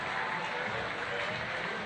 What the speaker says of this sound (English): As the players sportingly applaud each other off the field of play